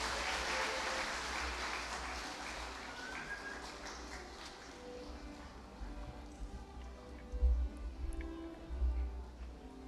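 An audience applauds at a university degree-conferral ceremony, congratulating an award recipient; moderate clapping fades out over the first few seconds, leaving a quiet hall with a few soft thumps.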